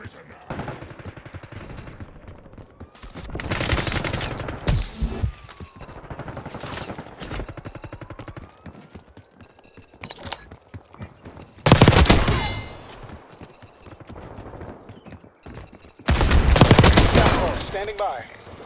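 Bursts of automatic gunfire in the video game Black Ops 6, rapid rattling volleys that come and go in loud clusters, with in-game voice callouts heard between them.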